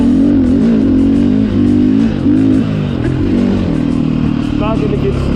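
A KTM 500 EXC dirt bike rides a trail at Gray Butte Loop, its engine loud and close throughout, revving and shifting pitch as the throttle opens and eases, with a rider speaking over it.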